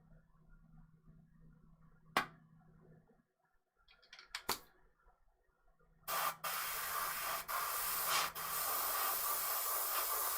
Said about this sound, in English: Sprayed a bit more green just to hold it down.